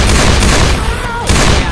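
Loud, dense bursts of gunfire crackle continuously with a booming low end, like rapid shooting up close, in Left 4 Dead 2.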